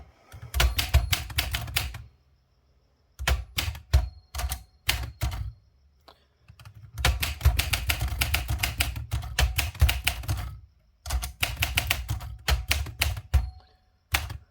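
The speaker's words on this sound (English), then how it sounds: "So let's see if this types." A 1962 Olympia SF manual typewriter, freshly fitted with a ribbon and paper, typing in quick bursts of crisp keystrikes separated by short pauses, close and clear with no talking.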